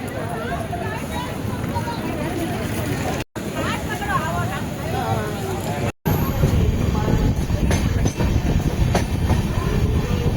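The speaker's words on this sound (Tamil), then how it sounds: "நம்ம ட்ரெயின் இங்கேருந்து கிளம்பி சேலத்தை நோக்கி புறப்பட்டு தான் போவோம்" The Kovai Express train sits at a busy station, its rail and carriage noise running as a steady rumble with occasional clacks while people talk nearby.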